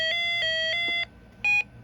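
Reecom R-1630 weather radio sounding its advisory alert: three sharp, loud electronic tone bursts in quick succession, a short pause, then one more burst, all close up and with no talking.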